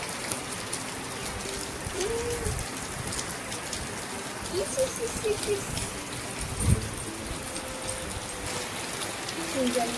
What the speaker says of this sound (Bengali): আমি একটু বৃষ্টির মধ্যে হাঁটতে লাগছি